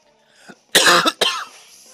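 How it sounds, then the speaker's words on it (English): A faint throat sound followed by two harsh, close coughs from a single person, the second shorter and trailing off. "Why do I have to keep coughing?"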